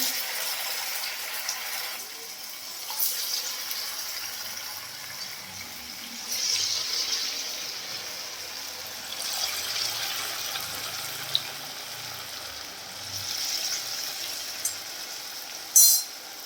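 Vadas for a fasting-day dish fry in hot oil with a soft, continuous bubbling hiss and occasional light crackles and pops, heard up close with no talking.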